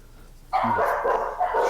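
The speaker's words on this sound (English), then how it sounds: "Shut up, dogs!" A dog barks after a short quiet stretch: one sharp bark, then a second, softer bark, both close and fairly loud.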